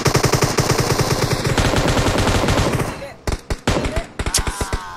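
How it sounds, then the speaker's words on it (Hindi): M249 light machine gun fire in a shooter video game: a long rapid automatic burst, then a string of separated loud single shots, close and punchy. "सिंगल में गोली चलती है भाई M249 से भी सिंगल में चलती है बताओ"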